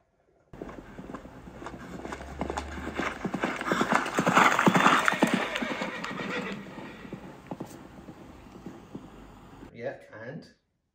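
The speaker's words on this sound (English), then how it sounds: "Do you know what animal might make that noise with its hooves? I think it might be a horse." Horse hooves clip-clop steadily at walking pace, with a horse whinnying partway through and a busy mix of sound effects around them.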